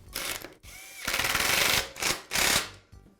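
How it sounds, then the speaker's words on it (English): A power drill or driver tightens bolts on the vise jaws of a Black and Decker Workmate, running in several loud, close bursts of rapid mechanical chatter separated by short pauses. "Now that all the parts are in place, I can secure the bolts."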